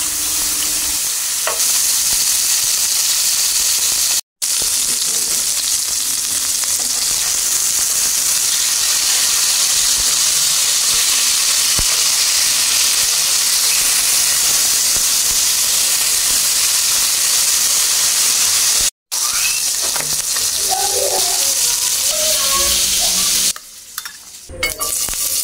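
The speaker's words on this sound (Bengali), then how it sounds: "তো মাছটা একটু হালকা করে ভেজে নেব।" Pangas fish fries in hot oil in a frying pan with a loud, continuous hissing sizzle that runs nearly unbroken, cutting out briefly a couple of times, with faint clatter near the end.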